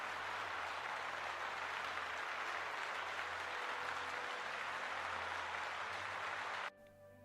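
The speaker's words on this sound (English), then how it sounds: "Let's give them a little bit of claps." Steady applause from an audience clapping for a Dungeons & Dragons homebrew review, a dense even wash of claps lasting several seconds before cutting off abruptly near the end.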